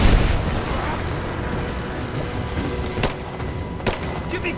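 Heavy combat din in Rise of the Tomb Raider, a continuous roar of weapon fire and blasts with a couple of sharp distinct shots standing out near the end, loud and close.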